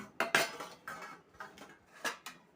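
Plates being handled while serving lunch, a series of about eight close, sharp clinks and clatters of dishes and cutlery at an irregular rhythm, with no talking.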